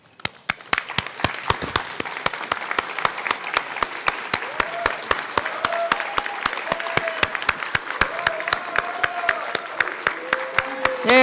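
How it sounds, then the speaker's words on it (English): Audience applause at a 2019 school spelling bee, sharp distinct claps building from a few hands into steady rhythmic clapping, with short cheers and voices rising over it. "I think we need to give them a standing huge round of applause."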